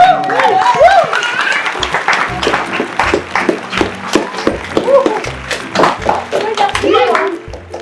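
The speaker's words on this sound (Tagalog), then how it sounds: "Ay, palakpak." Hands clap together at a birthday celebration, a quick run of sharp claps under and between lively talk and children's voices close by.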